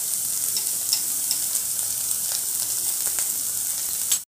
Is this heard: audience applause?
no